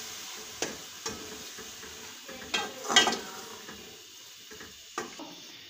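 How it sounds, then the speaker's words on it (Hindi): Fenugreek leaves being stirred into a cooked masala for a potato and carrot sabji, heard as soft scraping and clinking of a spoon against the pan in irregular strokes, with a faint sizzle underneath and no talking. "अब हम सबसे पहले इसमें मेथी डालेंगे, इसको अच्छे तरीके से मिक्स करेंगे।"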